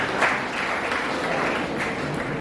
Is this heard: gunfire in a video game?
no